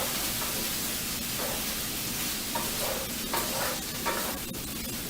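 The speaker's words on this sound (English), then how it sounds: "It's called the frozen peas and carrots. From here, what you need to do, stir and fry." Frozen peas and carrots stir-fried in a pan for tofu fried rice, with a steady close sizzle and soft stirring scrapes throughout, no talking.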